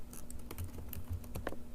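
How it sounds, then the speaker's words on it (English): Computer keyboard typing in short uneven bursts of clicks, close and fairly quiet, during a hacking tutorial session; no voices. "I'm typing slow."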